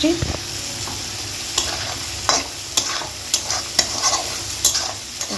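An egg sautéing in a pan in a home kitchen, a steady soft sizzle broken by repeated scrapes and stirs of a spatula, close and moderately quiet, with no talking.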